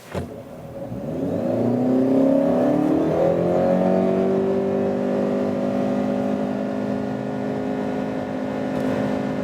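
Honda CR-V Hybrid accelerating hard in sport mode, the engine note swelling quickly into a loud, sustained drone that rises in pitch and then holds steady, heard from inside the car with no talking.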